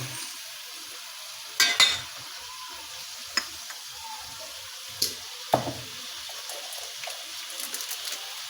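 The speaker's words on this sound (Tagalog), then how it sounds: "Haluin." Food stirred in a cooking pan with a quiet ongoing sizzle and a few distinct scrapes and clinks of a utensil spread across the stretch, close but faint, with no talk.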